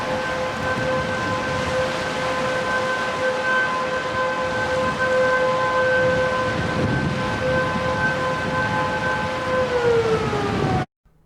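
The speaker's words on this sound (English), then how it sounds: "shortly after that, the sirens actually went off" Outdoor warning sirens at the Falls of the Ohio near McAlpine Locks and Dam wail steadily with layered tones over a rainy, rumbling background, then wind down and cut off near the end.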